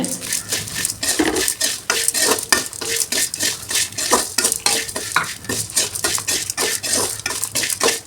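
Horse gram chutney ingredients and grated coconut sauté in a pan, with a spatula scraping and stirring in a quick, steady rhythm over a close, continuous sizzle.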